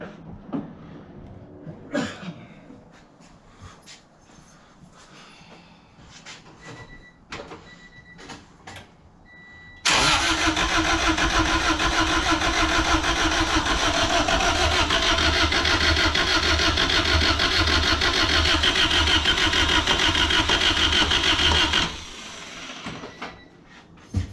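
A rebuilt, previously blown Honda D16Z6 engine fires up after quiet clicks and handling noises, then runs loud and steady for about twelve seconds before shutting off abruptly.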